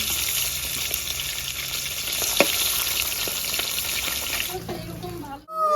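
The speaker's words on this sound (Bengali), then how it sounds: "এই তেলে আমি আলুটা ভেজে নেবো, দিয়ে দেবো আলু।" Potato pieces frying in leftover mustard oil after fish produce a strong, close sizzling hiss, with a sharp utensil knock partway through. The sizzle breaks off near the end into a short voice.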